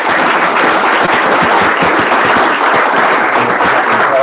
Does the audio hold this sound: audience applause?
yes